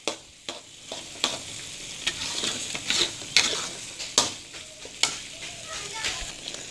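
Spices with bay leaves and lime leaves sauté in a pan for pickled yellow tilapia, a steady sizzle broken by repeated scrapes and clacks of a spatula stirring close by, with no voices.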